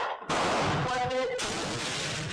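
A Portuguese Vergueiro Mauser rifle fires Yugoslavian 8mm surplus ammunition: one loud, close crack after a moment of quiet, followed by a long rumbling echo that fills the rest of the moment.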